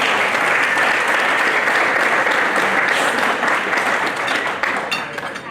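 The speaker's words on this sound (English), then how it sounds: "Give them a big round of applause." At the 2022 Curtis Elam Athletic Hall of Fame induction ceremony for Glenville State, a crowd gives inductees loud, sustained applause. The dense clapping fills the room and tapers slightly near the end.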